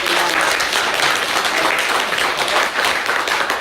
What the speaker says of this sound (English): Let's give the captain a round of applause.